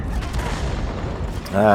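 Tank gun shots and shell impacts from a tank battle video game sound in quick succession, with loud booms and rattling bursts, then a brief tonal effect at the end.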